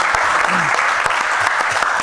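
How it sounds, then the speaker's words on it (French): A talk show studio audience keeps up steady, full applause for a guest throughout, with a close, even wash of many hands clapping and a faint voice briefly underneath. "On va applaudir Lamine parce que ce n'est pas facile pour lui"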